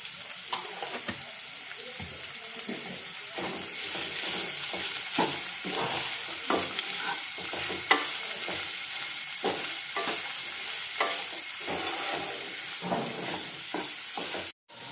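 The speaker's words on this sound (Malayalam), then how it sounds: "ആവശ്യത്തിന് ഉപ്പും കൂടി ആഡ് ചെയ്ത് നമുക്കിത് നല്ല രീതിയിൽ ഒന്ന് ഇളക്കി കൊടുക്കാം" Carrot mango pickle being stirred with salt in a pan, giving a steady sizzle with repeated scraping strokes of the spoon throughout, close and clear with no talking.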